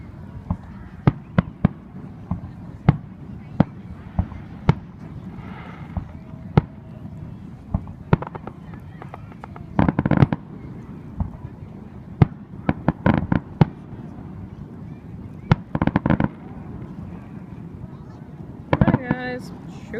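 Independence Day fireworks popping and cracking at a distance, sharp scattered bangs and rapid firecracker bursts over steady wind noise, with people talking now and then.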